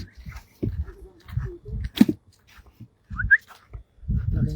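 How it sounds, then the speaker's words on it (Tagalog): A big dog by a river makes soft whimpers and a brief high whine among snuffling, breathing and rustling close by, with faint voices now and then. "Laking aso."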